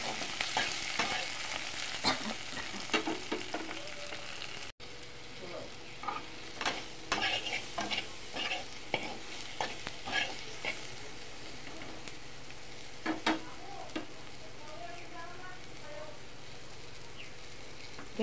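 Tomatoes and cashews fry in a pan for butter chicken, a continuous low sizzle broken by repeated scraping and stirring strokes of a spatula, close and moderately quiet.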